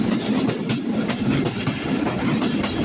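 Tungipara Express train running near Pakshi railway station in Pabna district, a steady close rumble of wagons with rhythmic clickety-clack from the wheels throughout, with no voices.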